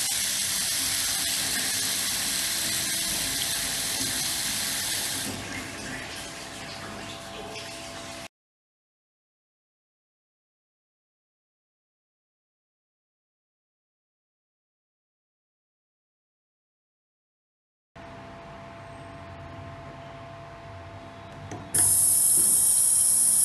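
Steady rushing water pours from an auto-closing push pillar tap on a wash basin for several seconds, then cuts off to silence before flowing resumes and grows louder near the end.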